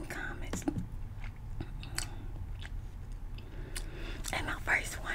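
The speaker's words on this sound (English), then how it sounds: "This one is the ASMR eating mouth sounds, intense crunchy." Krispy Kreme donuts are chewed close to a microphone for ASMR, with wet mouth sounds and sharp crunchy bites at an irregular pace, mixed with soft whispering.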